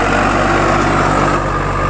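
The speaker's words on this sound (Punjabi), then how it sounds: "ਉਹ ਫੋਰ ਵੀਲ ਟਰੈਕਟਰ ਨਾਲ ਚੱਲਣਾ ਹੈ" A four-wheel-drive tractor engine, a Swaraj 855 or Kubota MU5502, runs steadily and loudly close by, giving a dense continuous rumble with no pauses and no talking.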